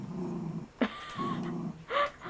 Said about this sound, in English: So that's the growling that you guys hear. They're play fighting down there.